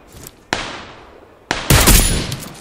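Gunfire in the PUBG Lite battle royale game: a sharp single shot, another a second later, then a loud close burst with a long echoing tail, no talk.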